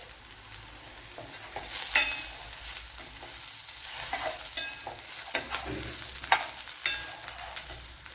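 Onions and fenugreek seeds fry in a pan while being stirred, giving a steady soft sizzle broken by scraping spoon strokes and small clinks, fairly close with no talking.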